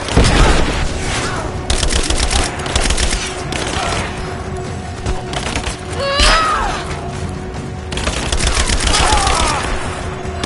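Loud, sustained automatic gunfire and explosions fill a PS4 shooter game, bursts overlapping one another while soldiers shout over the din.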